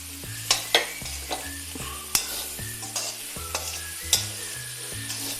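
Mushrooms go into a pan of softened onions sautéing in coconut oil, with a steady sizzle under repeated sharp scrapes and taps of a spatula stirring the mix.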